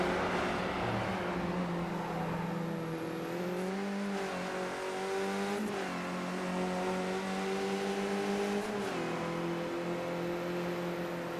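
Volkswagen Jetta race car engine in iRacing at Virginia, rising in pitch under throttle and dipping at each gear shift in a steady pattern across the stretch, loud and continuous with no voices.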